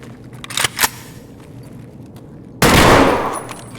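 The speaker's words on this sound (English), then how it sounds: "gun shot" A bolt-action rifle gunshot in the video game Escape from Tarkov, a single loud blast with a decaying tail after a few faint clicks, close and alone.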